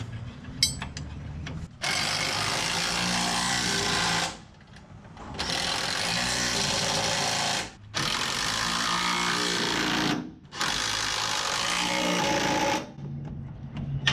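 A hand wrench or pneumatic tool works on a vehicle, sounding in several long continuous mechanical bursts with short pauses between them, close and steady, with no talking.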